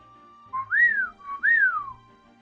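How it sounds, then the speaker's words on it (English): A two-note rising-and-falling whistled bird call, performed twice in a row, clear and close, with no talk, played as a summoning call in the story game Choices: Nightbound. "Close your eyes as a vibrant image of birds fills your mind and you whistle a call."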